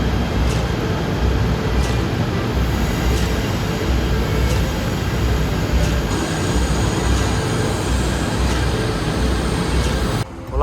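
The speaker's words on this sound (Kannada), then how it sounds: "ಯಾವುದೋ ಎಕ್ಸ್ಪ್ರೆಸ್ ಟ್ರೈನ್ ಇದು" An express train runs at Kuala Lumpur railway station as a loud, steady rumble and roar that fills the whole stretch, with faint periodic clicks over it and a sudden drop at the very end.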